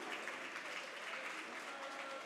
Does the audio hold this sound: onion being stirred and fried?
no